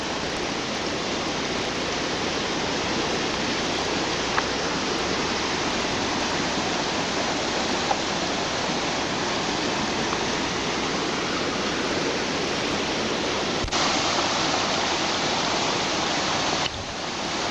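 Waterfalls in a cold forest area pour in a steady, loud, broadband roar that holds constant throughout, with a slight shift in texture near the end and no voices.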